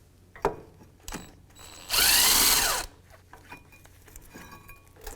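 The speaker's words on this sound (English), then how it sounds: "Now I'll use my electric tool to speed up that process." An electric power tool spins briefly in one loud burst while removing bolts from a wheel hub on a 2001-2007 Volvo V70, surrounded by quieter clicks and handling noises.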